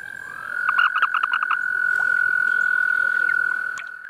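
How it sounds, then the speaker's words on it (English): A male American toad gives a release call: a rapid series of short chirping pulses, followed by a long, steady, loud trill that holds close by to the end. "That release call is basically announcing to the male that, hey, whoa, I'm another guy."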